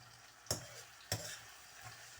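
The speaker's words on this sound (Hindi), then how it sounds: "इसको भूनती हूँ मसाले को" Masala roasting in a pan with okra over raised heat makes a faint, quiet sizzle, broken by two sharp scraping knocks of a spatula against the pan.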